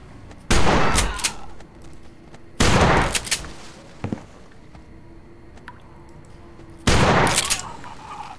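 Shotgun blasts in the zombie survival game No More Room in Hell: three loud, close booms spaced seconds apart, each trailing off, with a small clack between them.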